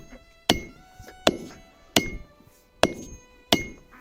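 Five heavy, ringing blows from an oversized hand hammer land on hot steel while forging a stake anvil, at an uneven pace, each sharp strike followed by a brief metallic ring, up close.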